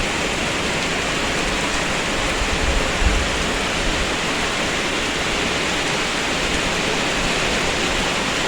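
Steady rain falls outdoors near the Mekong, a dense, even hiss that stays constant and fairly loud throughout, with no voices.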